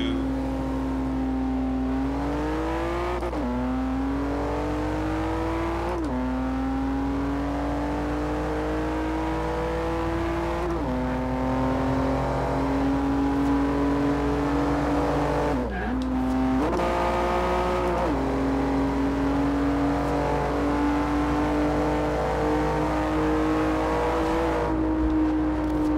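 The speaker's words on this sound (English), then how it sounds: "I'll let you guys hear the exhaust when I start this pull here" A 2015 Volvo S60 sports car engine in a video game revs hard and loud through its exhaust, climbing in pitch, dropping briefly at each of several gear shifts, then climbing again, with no talking.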